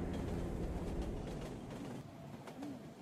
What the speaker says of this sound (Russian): под неумолкающие звуки поезда